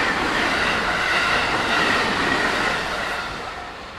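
A train, the Hello Kitty Haruka express, rumbles past on the rails nearby at JR Yamazaki Station in Japan, a loud continuous roar with faint squealing wheels that gradually fades toward the end.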